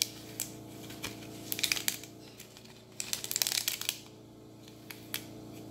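Iridescent flame-retardant PVC metallic ribbon crinkling as it is handled up close, with bursts of crisp rustling and crackle separated by quieter pauses, no talking.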